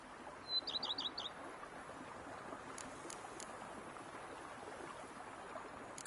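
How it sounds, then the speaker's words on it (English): Birds chirp in a brief cluster of quick high tweets early on, followed by a few faint distant calls over steady outdoor ambience in The Witcher 3: Blood and Wine video game. "Bees buzzing, birds chirping."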